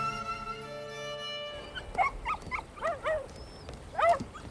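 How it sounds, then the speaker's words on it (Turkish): Dogs whimper and bark in short, high, wavering cries that break into a few yips, at low level after a sustained tonal sound fades. "Ne oluyor bunlara? Nedir bu köpeklerin hali böyle?"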